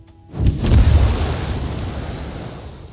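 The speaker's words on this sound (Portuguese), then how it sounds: "Bomba dragão" Dragon bomb explosion in King Arthur: Knight's Tale, a single deep boom that hits hard after a short pause and then rumbles and fades over a couple of seconds.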